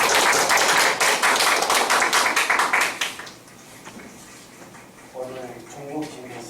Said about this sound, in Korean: 오늘 중국집이 식사도 맛있게 하는데 박수 소리가 좀 작습니다